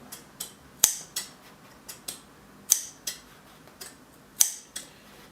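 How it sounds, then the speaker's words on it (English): Scissors snipping the fabric of a trouser back pocket during sewing: a slow series of crisp, separate clicks and snips with a few sharper ones, close and clear, with no talking. "you cut it to that point, 45 degrees, and then you cut under 45 degrees right up to the end of your stitching"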